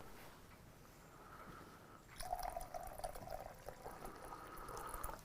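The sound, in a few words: pouring hot water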